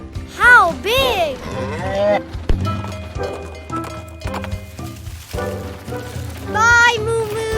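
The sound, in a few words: cow mooing in a children's cartoon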